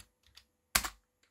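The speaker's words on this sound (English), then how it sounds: "So here you use the keyboard" A few keys clack on the keyboard of an MSX2+ clone computer: two light taps, then one firm press, then a faint final tap, all close and without any voices.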